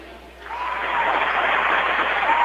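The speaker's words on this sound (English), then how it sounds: "What's all that cheering about?" A crowd's cheering swells in after a quiet start and holds as a broad, sustained roar.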